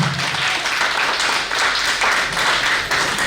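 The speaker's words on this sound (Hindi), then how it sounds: "तो ताली बजाओ जोरदार एक बार।" Loud, sustained applause from a seminar audience in Delhi clapping hard on request, a thick steady roar of many hands with no pauses.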